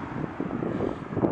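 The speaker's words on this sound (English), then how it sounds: "the wind is blowing" Wind buffeting an outdoor microphone, a steady low rumble with gusty swells throughout, no voices.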